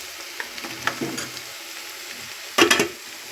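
Soy meal maker chunks fry in oil in a pan with a soft crackling sizzle. A few light stirring scrapes are heard, then one louder burst of stirring near the end.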